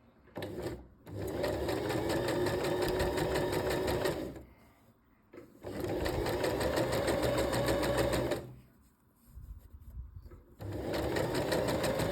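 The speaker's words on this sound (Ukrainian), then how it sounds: "І далі шиємо зигзаг таким чином, щоб витягнута нитка йшла посередині стіпка." Sewing machine stitching a zigzag across fabric to make gathers, running loudly in three long bursts with short pauses between them and no voices.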